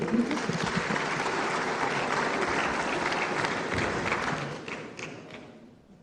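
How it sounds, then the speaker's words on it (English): Round of applause from a conference audience at the Afreximbank Annual Meetings for an arriving speaker, dense steady clapping with some thumps that fades out near the end. "Please, a round of applause for him."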